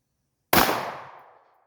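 A single loud gunshot from a Draco rifle or Glock pistol at a shooting range, with a sharp, close crack and a reverberant tail that fades over about a second.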